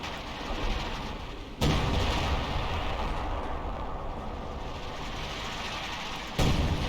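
Cannon volleys from a WWII anti-tank gun in a strategy game, two loud broadband booms about five seconds apart over a steady rumble of battle noise.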